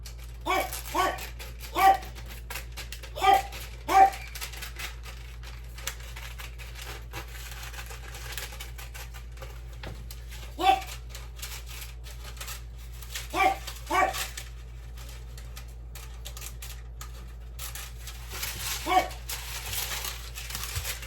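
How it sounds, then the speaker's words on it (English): A dog barks indoors in a home kitchen, sharp single and paired barks scattered across the stretch, moderately close, with quiet gaps and faint background noise between. "Of course, Edward's going to bark, because that's Edward"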